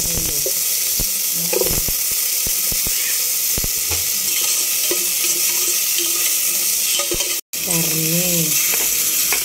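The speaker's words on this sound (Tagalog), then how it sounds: "So, magigisa tayo ng konting mantika." Pork belly sautés in a little oil in a pan, giving a steady close sizzle with scraping and stirring clicks throughout. A voice speaks in the background.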